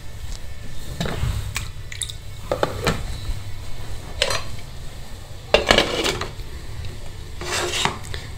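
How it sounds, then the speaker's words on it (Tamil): A pressure cooker holding buttermilk dumplings being closed, with close metallic clanks, scrapes and rattles of the lid in irregular bursts over faint background noise. "இப்போ இந்த குக்கரை மூடிடலாம்."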